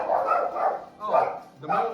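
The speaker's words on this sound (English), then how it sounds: "the dogs are going crazy" Dogs barking excitedly at a mailman's arrival, three loud bursts of barking with short pauses between them, close by, mixed with some yipping.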